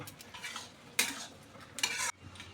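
Whole spices (bay leaf, star anise, mace, cinnamon, black pepper, dried red chili, green cardamom) hit hot oil for tempering, giving two sharp bursts of crackling sizzle between quieter spoon clinks.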